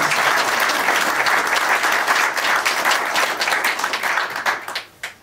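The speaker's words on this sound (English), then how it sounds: "that's a good round of applause" A conference crowd breaks into loud, dense applause that holds steady and then thins into scattered final claps near the end.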